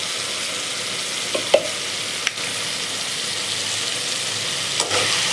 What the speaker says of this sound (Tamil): இப்போ இந்த எண்ணெய் பிரிஞ்சு வர வரைக்கும் இந்த தக்காளியை வணக்கணும்.